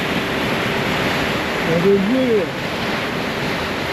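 Ocean waves crash and surge in a steady roar with wind buffeting the microphone, while a voice speaks briefly near the middle of the recording.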